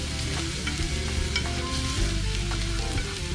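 Garlic sautés in a hot pan with a steady loud sizzle and frying crackle, while a utensil stirs and scrapes through it in light, irregular strokes.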